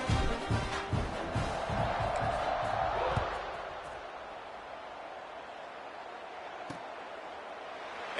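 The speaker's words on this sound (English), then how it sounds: "Kickoff unit is out there again, and this crowd is feeling themselves after that last drive" A crowd in a college football video game stadium cheers loudly for about three seconds before a kickoff, then fades to a low, steady crowd murmur with a commentator's voice over it.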